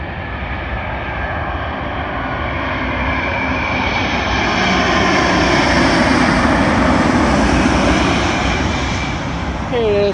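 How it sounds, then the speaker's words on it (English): A British Airways Airbus A350-1000 from Denver arrives at London Heathrow runway 27L, its jet engines a loud, steady roar building gradually over several seconds, with a high whine sliding in near the end. "Arriving in now is the British Airways Airbus A350-1000, working a service from Denver to London Heathrow"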